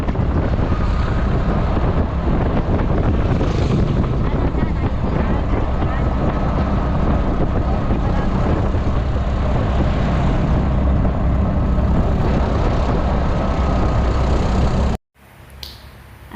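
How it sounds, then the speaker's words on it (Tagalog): A ride in a motorized tricycle (tok-tok), a loud, steady roar of engine and wind buffeting the microphone that continues without a break, then cuts off abruptly near the end. "At ito na nga yung sinakyan namin. Ang tawag dito sa Manila niyan ay tok-tok."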